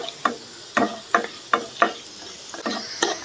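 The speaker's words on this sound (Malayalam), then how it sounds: "എല്ലാം കൂടി ഒന്ന് വഴറ്റി കൊടുക്കാം" Beef liver curry ingredients and a bay leaf being sautéed in a pan, with a series of sharp, regular spoon scrapes and stirs over a soft sizzle, close and fairly loud.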